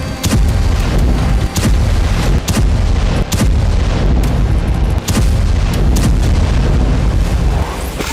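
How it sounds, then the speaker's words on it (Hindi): A rapid series of heavy booming explosions from Israeli airstrikes in Gaza, about a dozen blasts in quick succession, loud and reverberant over a constant roar. "1 मिनट के अंदर इजरायली एयरक्राफ्ट ने 1 दर्जन धमाके कर डाले।"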